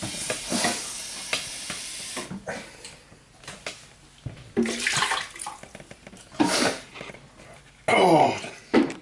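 Water is poured into a blender holding a blended burger, splashing and gurgling in uneven close bursts, with a louder rushing pour near the end.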